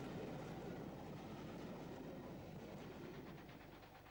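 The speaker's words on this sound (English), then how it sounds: "A succession of trains climb from the south into Morto." Trains climbing a gradient on a Southern Region line in the West of England, a low, steady rumble of wheels and engine that holds level and then fades slightly toward the end, heard at a distance and faint.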